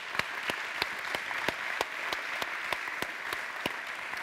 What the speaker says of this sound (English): I want to ask for one last round of applause for all of our Talend Data Mastery Awards